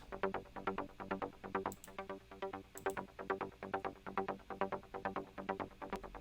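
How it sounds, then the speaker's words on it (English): Trance bass synth with an added top bass layer, playing a rapid, even pulsing pattern of short plucked notes in a steady groove, alone without any speech. "And with the top bass, it sounds like this."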